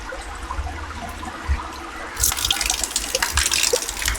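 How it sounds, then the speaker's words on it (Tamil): Shower water pours over stones at a guest lodge near Negombo, Sri Lanka, a faint trickle that swells into a louder, continuous splashing gush partway through. "ஷவர் என்னன்னா இந்த கல்லில் தான் செட் பண்ணியிருக்கிறேன்."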